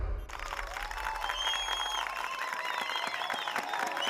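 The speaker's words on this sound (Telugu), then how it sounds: "ఏదో అర్థమైనట్టే చప్పట్లు కొడుతున్నారు యదవులు." A crowd of people clapping in a scene from the Telugu film Sulthan: dense, steady applause at a moderate distance that carries on throughout, with some faint cheering mixed in.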